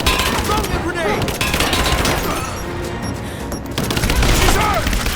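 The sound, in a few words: gunfire in video game Rise of the Tomb Raider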